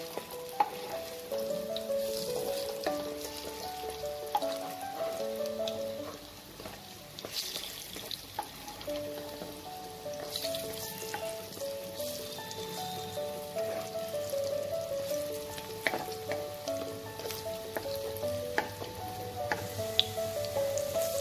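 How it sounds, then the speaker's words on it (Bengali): Lentil fritters (bora) fry in oil over medium-low flame with a steady, soft sizzle and crackle, occasionally interrupted by the scrape and stir of a utensil in the pan. "মিডিয়াম টু স্লো ফ্লেমে বড়াগুলো সবসময় ভাজতে হয়।"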